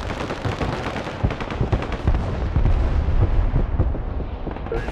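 AT4 anti-tank rockets blasting in the war game Broken Arrow, a dense barrage of loud booming impacts and crackling gunfire that rolls on steadily for the whole stretch with no pause.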